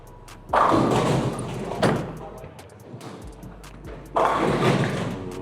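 A bowling ball rolls down the lane with a rumbling thud, and a second throw follows a few seconds later, both heavy and fairly close, with a voice faintly present in the background.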